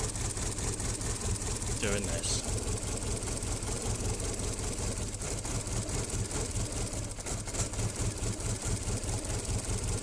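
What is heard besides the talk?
Renault Twingo engine idling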